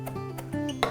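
A knife chops sweet potato on a cutting board, using the heel of the blade: about four sharp, separate knocks spread across one second over a low, steady background hum.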